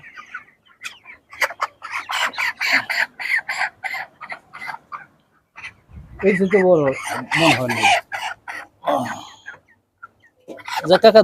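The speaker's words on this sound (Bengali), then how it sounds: "ওর অনেক বড় মুরগি আছে" Chickens on a poultry farm cluck in repeated short bursts, close and fairly loud, while a person talks in the middle of the stretch.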